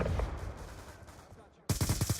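Assault rifle gunfire in the video game Black Ops 2, a rapid burst of loud automatic shots with sharp rhythmic cracks, preceded by quieter game background noise.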